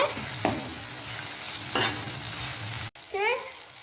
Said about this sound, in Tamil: நெக்ஸ்ட்டு தட்டி வச்சுருக்க இஞ்சி ஆட் பண்ணிக்க கிண்டிக்கோங்க.